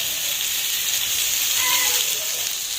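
Pointed gourd and potatoes fry in a pan with a steady, loud, hissing sizzle that holds constant throughout, heard close by.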